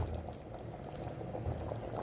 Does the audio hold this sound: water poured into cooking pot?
yes